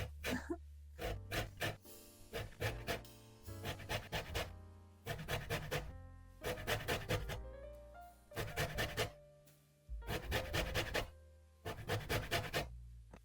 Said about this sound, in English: I just use the small shred size of my cheese grater, and that works fine